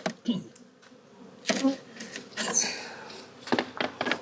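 Honeybees buzz around an open hive during an inspection, heard in short bursts amid handling knocks and scrapes of hive parts, with people talking briefly.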